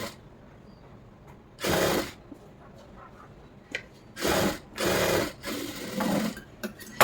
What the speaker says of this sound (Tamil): இப்போ இதில் 2 ஸ்டிச் போட்டுக்குங்க.